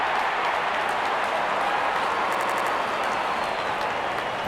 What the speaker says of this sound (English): Out come the openers, cheered by a good crowd in.